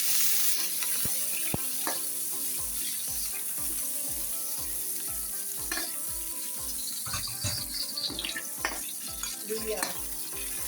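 Garlic and onion sizzle steadily in hot cooking oil in a pan, a close, continuous frying hiss with small crackles and occasional clinks of a utensil throughout.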